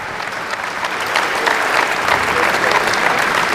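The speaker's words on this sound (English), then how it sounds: "Everyone, a round of applause for all the organizers and all 4 teams that participated this weekend" Sustained applause from a crowd at a university basketball championship awards presentation, a dense, steady clatter of clapping hands that swells slightly and holds loud throughout.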